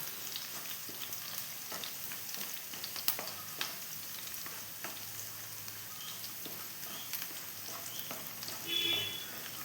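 Garlic fries in hot oil in a pan while a Malayalam-style garlic pickle is being made, giving a quiet, constant sizzle with small crackles and occasional stirring clicks.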